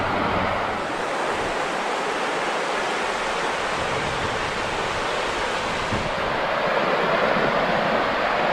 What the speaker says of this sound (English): This is the Ausable River.